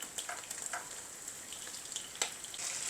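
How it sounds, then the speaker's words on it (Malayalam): Sardines frying in oil in a pan, a faint, steady sizzle with small scattered pops and one sharper crackle near the end, no voices. "തിരിച്ചിട്ടു ഇനി ആ സൈഡും കൂടെ വറുത്ത് കഴിഞ്ഞാൽ നമ്മൾ മീൻ വറുത്തത് റെഡിയായി"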